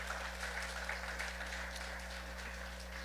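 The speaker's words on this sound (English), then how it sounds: "How about a round of applause?" Meeting audience claps in a round of applause, a faint, distant patter of hands over a loud steady electrical hum.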